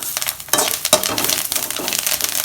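Garlic cloves and dried red chilies sauté in a pan for a medicinal greens chutney, crackling loudly and close with busy spatula scrapes and stirring clatter throughout.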